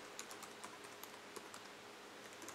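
Keys clatter on a computer keyboard while a fastboot flash recovery command is entered at a command prompt, a quick run of light, close clicks with no talk.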